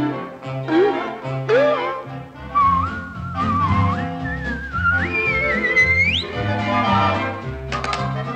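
A melodic whistle carries the tune of a jaunty vintage song, gliding up and down over the orchestral backing and sustained throughout.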